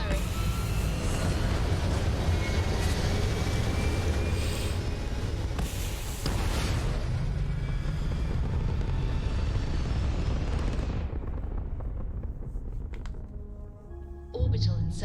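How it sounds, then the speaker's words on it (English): Spaceship thrusters firing in the Starfield video game: a loud, sustained rumbling roar with a hissing wash that cuts off sharply near the end, leaving a brief quieter tail with a small burst. "All thrusters firing."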